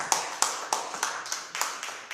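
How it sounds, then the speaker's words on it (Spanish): Several sharp hand claps land at a steady, evenly spaced rhythm, fairly close and moderately loud, like one person clapping, during a church service. "Un aplauso al Señor."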